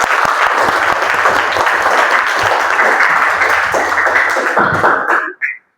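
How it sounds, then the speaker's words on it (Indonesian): Students in a classroom clap together in a steady burst of applause lasting about five seconds, then stop abruptly. "Tepuk tangan dong untuk kita semua."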